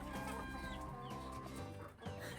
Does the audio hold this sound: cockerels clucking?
yes